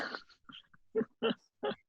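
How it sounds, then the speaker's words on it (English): A pet dog gives a handful of short, muffled barks and yips, separate and uneven in spacing, heard indoors at moderate distance with no talk over them. "that's my dog barking"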